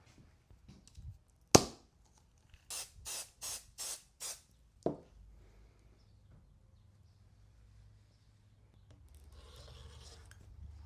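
A sharp hiss, then five quick bursts from a base coat spray can onto a jacket sleeve in an even rhythm, followed by one more short spray; quiet afterwards.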